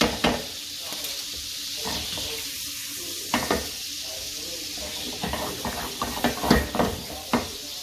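Butter sizzles and crackles steadily in a pan while a sauce for salmon is made, with intermittent louder spits and pops over a constant frying hiss and no speech.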